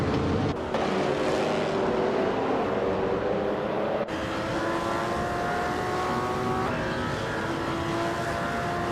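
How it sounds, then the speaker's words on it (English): Race cars at speed, among them a 1937 Alfa Romeo 12C, with a continuous loud engine roar and rising and falling pitches as cars pass, and an abrupt change partway through. "racing a 1937 Alfa Romeo 12C"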